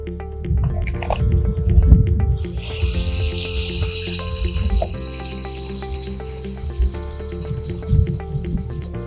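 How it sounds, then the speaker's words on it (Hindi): Softened tomatoes are stirred in a karahi while cooking charsi karahi, giving wet squishing and soft sizzling that turns to a steady hiss partway through, with background music underneath. "ये अभी हम इसको थोड़ा मिक्स करेंगे, टमाटर हमारे हो गए थोड़े नरम"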